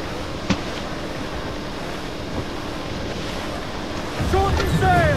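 Ocean waves wash near a beach in Assassin's Creed IV Black Flag, a steady surf hiss with wind that swells louder toward the end. A brief knock sounds early on.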